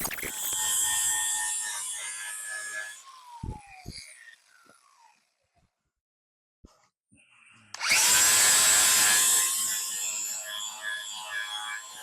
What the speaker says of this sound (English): I can get a lot of this stuff cleaned up with a flap disc without grinding too much of it off